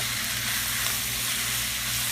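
Steak for a steak and cheese sandwich sizzles steadily in a hot pan, a close, even frying hiss with a low hum beneath and no talk.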